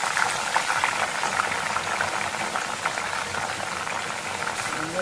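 Curry leaves, hibiscus and fenugreek go into hot oil, producing a constant, dense bubbling sizzle at close range with no voices.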